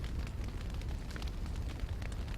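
A fire spell cast in the fantasy role-playing game Dragon Age: Origins gives a steady, roaring whoosh of flame with a heavy low rumble. It holds at a constant loudness for a couple of seconds, with faint crackles running through it.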